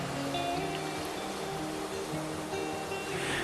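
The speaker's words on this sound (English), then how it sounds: "enjoying the sound of the waves and the fresh breeze" Sea waves wash along a coast in a steady, broadband rushing roar, a continuous moderate surf sound with no voices.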